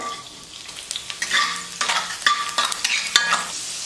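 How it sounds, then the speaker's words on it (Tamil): Small pieces of chopped garlic frying in hot oil for restaurant-style egg fried rice make a loud crackling sizzle that comes in bursts as a spatula stirs and scrapes the pan up close. "பத்து பல்லு பூண்டு எடுத்து சின்ன சின்ன பீஸாக வந்து கட் பண்ணிக்கிட்டு அந்த பூண்டு சேர்த்துக்கிறேன்"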